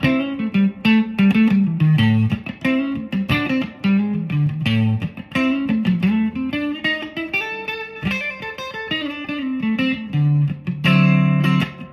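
An American Original 60s Fender Stratocaster electric guitar plays a continuous run of quick, melodic licks through a slightly driven tone, up close and alone with no talking.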